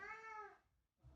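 An indoor cat gives a single clear, drawn-out meow up close, followed by a brief quiet moment and a faint low rustle.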